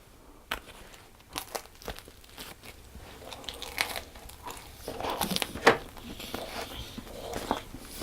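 Crusty homemade no-knead rustic bread with spread is bitten and chewed up close, producing several crisp crunches and crackles scattered irregularly over a quiet background.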